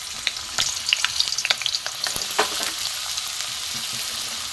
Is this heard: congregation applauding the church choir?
no